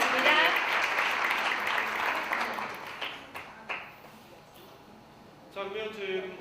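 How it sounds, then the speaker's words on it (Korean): Audience applause welcoming the host of a panel talk show at a conference, a dense burst of clapping that fades over several seconds, with a few scattered claps and someone speaking toward the end. "여러분 환영의 박수 부탁드리겠습니다."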